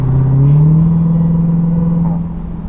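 A 2023 Dodge Durango Hellcat with its muffler deleted holds a deep, steady exhaust drone up close, its pitch rising slightly early on before the level eases off toward the end.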